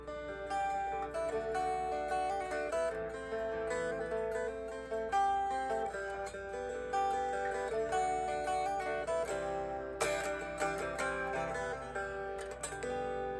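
Guitar notes picked one at a time in flowing broken chords, with shifting harmonies and a few brighter strums near the end, steady and close.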